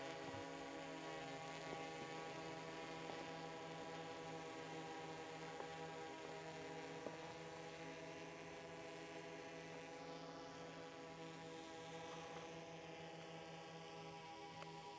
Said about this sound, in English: Just look at how stable that drone is.